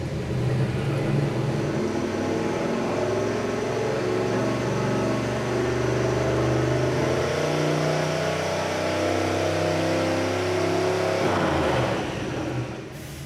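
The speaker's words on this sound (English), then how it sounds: "it's time to make our first dyno pull" A turbocharged Mazda engine burning E85 revs hard on a dyno, a loud, steady harmonic roar that holds for about twelve seconds before cutting off abruptly.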